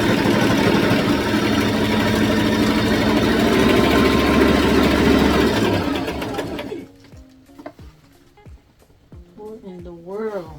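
A sewing machine runs steadily and loudly for about six seconds while stitching pieces of a Barbie tutu, then stops, leaving a few soft clicks and handling noises as a voice speaks briefly near the end.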